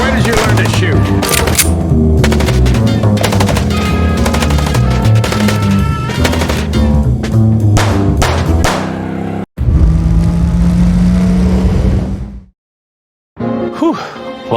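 Rapid gunfire in the noir detective game Chicken Police, dense bursts of shots over a loud backdrop, breaking off abruptly before a short silence and a final burst.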